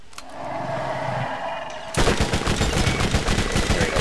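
Rapid gunfire from shooting at rakks in Borderlands, the Zephyr Substation run, bursting in loud and dense at about the two-second mark after a quieter droning stretch, then rattling on continuously.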